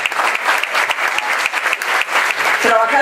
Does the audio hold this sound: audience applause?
yes